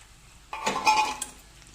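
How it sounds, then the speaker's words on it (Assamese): Duck meat tipped into a cooking pot with a brief burst of sizzling and a light clink of utensils against the pot, short and fairly quiet. "এতিয়া হাঁহ মাংসখিনি দি দিম।"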